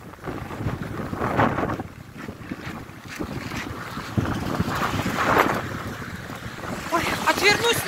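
Strong winter wind in Norilsk buffets the microphone in steady gusting roars, loud and close, with rustling swells rising and falling throughout.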